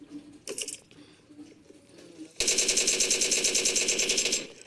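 Automatic gunfire from a BGMI mobile battle royale match rattles out in a long rapid loud burst, preceded by a few scattered softer game sounds.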